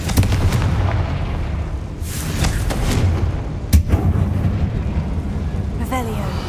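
A Confringo fire spell explodes in Hogwarts Legacy, set in a catacomb: repeated booming blasts over a steady rumbling roar, with a sharp crack near the middle and a thinner, ringing tail at the end.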